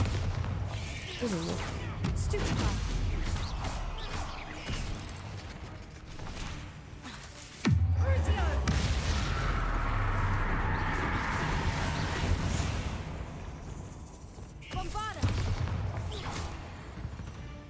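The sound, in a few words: Bombarda spell explosions in the video game Hogwarts Legacy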